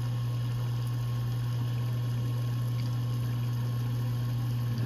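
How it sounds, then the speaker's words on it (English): Water runs inside a dishwasher with its kick panel removed, heard as a steady, even pump-like hum with a low drone and faint watery noise throughout, with no talking. "Water's running."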